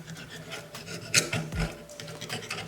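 Jeweler's saw cutting through metal, a fine rasping scrape repeated in quick up-and-down strokes, close and fairly quiet, with one or two sharper clicks partway through and no talking.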